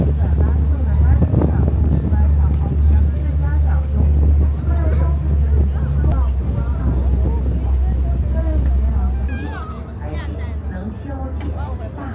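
A low, steady boat engine drone on a river cruise at Zhujiajiao Water Town, Shanghai, rumbles beneath continuous conversation, with wind buffeting the microphone; the engine eases off near the end.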